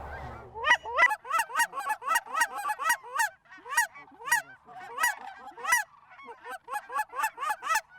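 A flock of geese honks repeatedly during a waterfowl hunt in West Texas, the calls coming in quick overlapping bursts, loud and fairly close. Faint low noise sits under the opening second.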